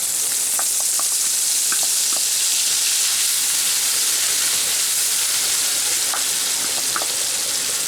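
Spice paste mixed in water sizzles as it is added to red-fried potatoes in a pan for a vegetarian banana-flower dish, a steady close frying hiss with scattered crackles and light stirring, no talking.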